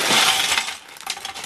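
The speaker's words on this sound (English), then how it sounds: "And the third bag dumped." LEGO pieces tumble out of a bag in a quick, bright clatter of hard plastic clicks that thins out to a few scattered rattles within a second and a half.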